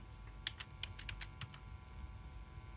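Short burst of typing on a computer keyboard, about ten quick close key clicks in an uneven run over a low background hum, with no talk.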